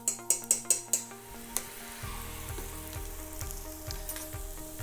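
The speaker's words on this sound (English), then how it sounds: "let's fry them together again a bit longer" Cinnamon, cumin and raisins frying together in a pan for a vegetable tagine with chickpeas: a few quick metallic taps and clinks open, then a steady close sizzle with soft stirring scrapes.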